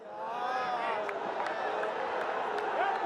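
A cricket crowd at a Bangladesh vs West Indies ODI cheers in a large stadium, a sustained roar of voices and whistles under a commentator's speech.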